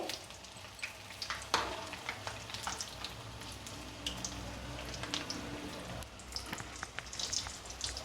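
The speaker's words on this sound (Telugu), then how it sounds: "ఇలా రెండో సైడ్కి కూడా తిప్పుకొని ఫ్రై చేసుకోవాలి" Sweet purnalu dumplings fry in hot oil, a quiet, crackling sizzle full of fine popping bursts like rain patter, with an occasional louder spit or clink, close by and without speech.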